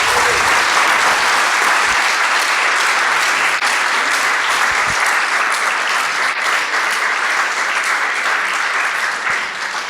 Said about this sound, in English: round of applause for Dax and Antoine